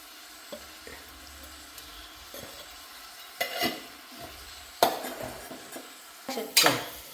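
A spoon stirs coriander powder, cumin and spices in a pan, giving soft scraping strokes with a few sharper clinks of metal against the pan over a quiet background.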